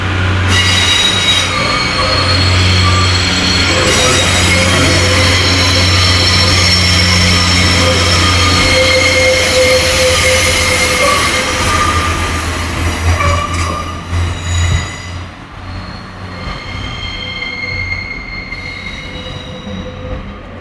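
Train unit 144014, a Northern service at Lincoln Central, moves through the station with loud, sustained high-pitched wheel squeal over a rumbling engine, easing off and fading toward the end.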